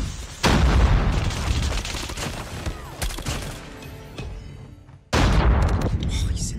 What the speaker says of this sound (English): Bad nade.